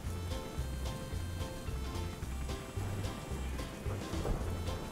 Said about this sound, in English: A storm's coming.